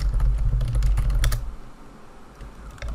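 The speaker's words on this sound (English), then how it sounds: "you're gonna type in Control Panel" Rapid typing on a computer keyboard, a quick run of close key clicks over a low hum that thins out partway through, followed by a few scattered keystrokes.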